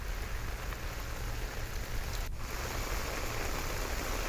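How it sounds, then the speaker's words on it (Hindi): Heavy rain pours down in Bhopal, a dense, steady hiss of drops drumming on surfaces, loud and unbroken with no voices. "काफी तेज बारिश।"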